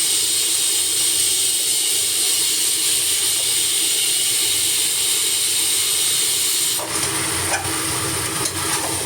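Chicken meat, tough country hen, being sautéed with papaya in a large wok, giving a steady loud hiss of steam and sizzle throughout, with a few light stirring scrapes near the end.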